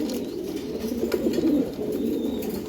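Iranian pigeons, a pair kept for sale, coo in soft repeated throaty rolls, fairly near and steady throughout with no talk.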